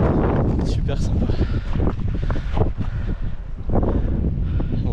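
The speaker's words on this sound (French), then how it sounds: "il y a du vent" Wind blowing across an alpine glacier on a clear blue-sky day, a steady loud rushing buffeting the microphone throughout, with a voice talking underneath.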